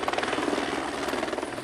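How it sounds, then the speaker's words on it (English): A helicopter working on fell path repairs in the Lake District, lifting ton bags up a hillside. Its rotor gives a steady, fast, loud chop and nothing else is heard. "nowadays we tend to use a helicopter when we can"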